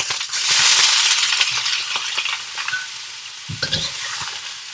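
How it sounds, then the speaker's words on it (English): Rice noodles tossed into a hot wok for pad thai at a wok station, a loud bright sizzle flaring up as they land, followed by scraping stirs and metallic clinks of the spatula against the wok. "Now I'm going to add my noodles."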